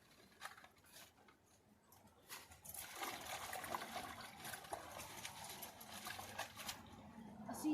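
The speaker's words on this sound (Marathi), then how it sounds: "छान अशी फणसाची पानं धुवून घेऊया." Jackfruit leaves rinsed under running water give a steady close trickle and splash, with soft patter and rustling as the leaves are handled during traditional Goan cooking. The water grows louder and more continuous about halfway through.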